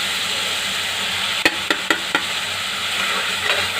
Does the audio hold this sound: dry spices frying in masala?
yes